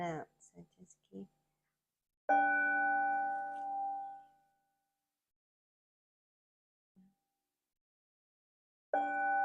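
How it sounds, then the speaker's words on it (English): A meditation bell in a meditation studio is struck once, ringing clear and close and then fading over about two seconds. A voice talks briefly before it, and a second strike begins near the end. "when I ring the bell, we can start walking"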